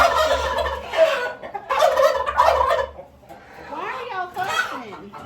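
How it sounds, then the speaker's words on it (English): Turkeys gobble loudly in a chicken pen, several rapid rattling calls in close bursts with clucking fowl around them and a person talking nearby. "the turkeys want to get into the chicken boxes"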